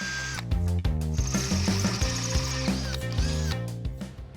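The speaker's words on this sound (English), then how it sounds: "Drill a few holes." A power drill whirs in short high-pitched bursts, revving up and cutting off several times in quick succession, drilling holes in freshly cut and bent metal bracket stock on a Jeep build.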